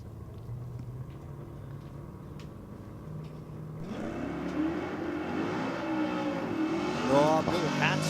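Drag car on the line at a Sydney dragway 4x4 theme night, its engine jumping from a steady idle rumble into a loud, roaring, revving burnout that swells and holds, with crowd voices talking underneath.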